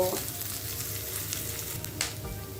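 Chopped onion and green chilli frying in a pan, a fairly quiet, steady sizzle with a couple of soft stirring scrapes, close by and without speech.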